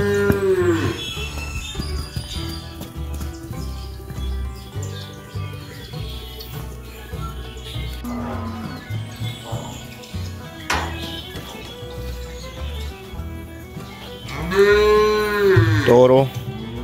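Young Gyr Lechero bulls on a cattle ranch moo repeatedly, with loud, drawn-out calls that overlap, some nearby and some farther off, while a voice speaks at times and birds chirp faintly behind them.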